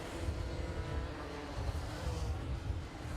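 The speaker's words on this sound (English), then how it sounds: "And that kart does sound a little bit like the exhaust is blowing a little bit on that Ian Taylor kart." A racing kart engine at a club SuperPrix, its exhaust apparently blowing, drones steadily at a distance as a continuous rough buzz with no clear pass.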